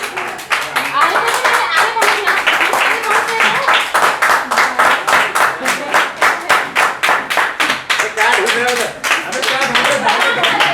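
A group claps in rhythm to greet a teacher on Teachers' Day, loud, close, regular beats in a steady pattern, with voices talking and calling out over the clapping.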